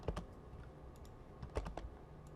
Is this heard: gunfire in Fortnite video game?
no